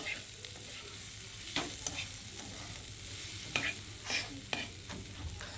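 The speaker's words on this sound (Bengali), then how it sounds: "ঢাকনা দিয়ে ঢেকে আমি হালকা আঁচে সবজিগুলোকে ভেজে নিচ্ছি" Vegetables with a little turmeric fry in a covered wok over low heat, a faint steady sizzle with occasional soft clinks and stirring taps.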